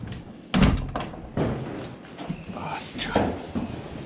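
Someone pushes a door shut on a farm with a single firm thunk, followed by a few lighter knocks and rattles, while people talk nearby.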